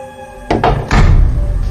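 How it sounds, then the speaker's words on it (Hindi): A door in a house swings shut by itself, giving a couple of close, heavy thuds and a bump, followed by a low rumbling tail. "ये दरवाजा कैसे बंद हो गया?"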